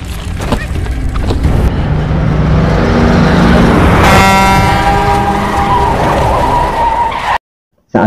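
A truck roars close in a Korean film scene, tires skidding and screeching loudly over heavy engine noise for several seconds, with a horn-like tone rising midway before it cuts off abruptly.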